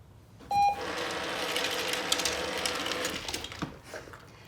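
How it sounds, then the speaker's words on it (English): A small beeping device used as a reward marker in dog training gives one short, clear electronic beep, followed by a whirring mechanical hum and light rattling. "So the little beep takes the place of your yes."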